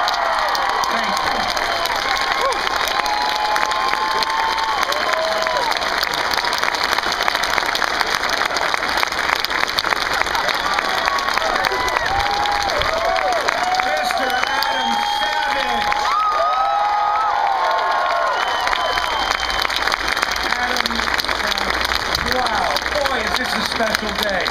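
A large outdoor crowd at the Reason Rally, an atheist and secular gathering, cheers, whoops and applauds loudly and without a break, with shouting voices rising out of a dense, sustained roar.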